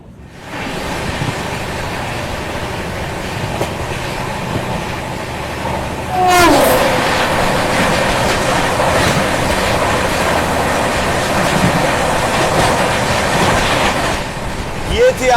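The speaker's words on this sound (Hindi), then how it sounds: "यहाँ देखिए अपनी ट्रेन ओवरटेक कर रही है नेताजी एक्सप्रेस को" A passenger train on the Delhi to Guwahati Northeast Express run rumbles loudly and continuously while overtaking the Netaji Express, with a swelling rush of passing noise and a squealing whine midway, heard close from onboard.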